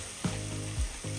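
Garlic drops into melted butter in a pan, a soft steady sizzle broken by a few low clunks and stirring scrapes close by.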